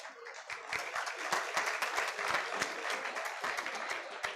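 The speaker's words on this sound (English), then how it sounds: "Let us honor the achievements with a well-deserved round of applause." An audience at the Epitome 2026 awards ceremony gives a sustained round of applause for the top players, dense crowd clapping with sharper individual claps standing out, even and continuous throughout.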